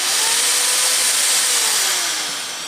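An INGCO ID6808 680W 13mm impact drill runs at full speed in hammer mode, a loud, steady high-pitched motor whine heard alone that eases slightly at the end.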